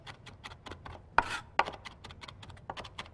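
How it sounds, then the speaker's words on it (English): A knife chopping fresh rosemary on a cutting board, a quick run of close, crisp taps in a steady rhythm with two louder thuds partway through, no voices. "So just really take the time to chop it up"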